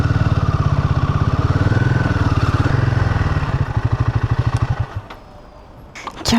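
A motorcycle engine runs close by with a loud, rapid, even thumping beat that slows and thins as the revs drop, then the engine cuts out near the end, followed by a few faint clicks.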